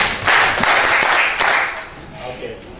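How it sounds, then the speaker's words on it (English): Students in a chemistry classroom clap for a classmate, a short burst of scattered hand claps close by that fades toward the end, with voices chattering underneath. "Yeah, clap for him."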